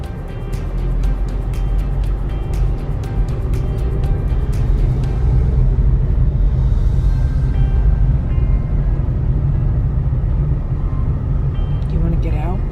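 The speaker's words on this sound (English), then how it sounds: "So I'm gonna drive over there to that cul-de-sac." Steady, loud car engine and road rumble from inside a moving car, running continuously with a faint rise in pitch near the middle.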